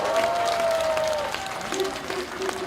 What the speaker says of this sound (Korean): 안철수 후보께 큰 격려의 박수, 감사의 박수 부탁드리겠습니다.